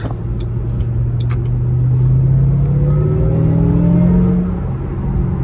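A car engine rises in pitch as the vehicle accelerates past close by, heard through an open window, a steady rumbling roar that swells and then eases off.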